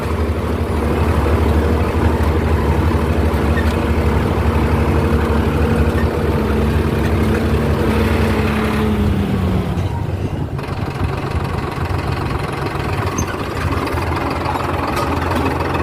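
A Mahindra 575 DI tractor engine idles unloaded in a laser-levelled field, with a loud, steady low rumble and knocking throb, close by and continuous throughout.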